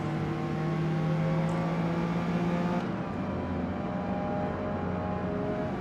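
A Nissan GT-R in the racing game Forza Motorsport 8 accelerates, its engine droning with rising harmonic tones that shift around the middle, steady and loud without speech.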